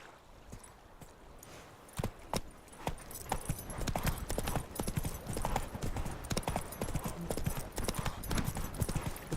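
Hooves of Roach, a horse in The Witcher 3 video game, clip-clop in a steady walking rhythm, close and fairly loud, a little sparse at first and then continuous.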